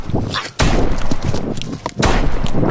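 Sniper rifle shots in a video game, two loud sharp booms about a second and a half apart, each followed by a dense rumbling tail.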